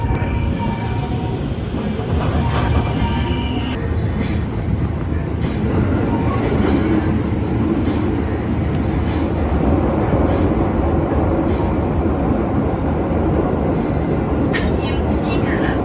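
Commuter train in Indonesia heard from inside the carriage, a constant low rumble and rolling rail noise throughout, with faint squeals and clicks, while a voice talks over it.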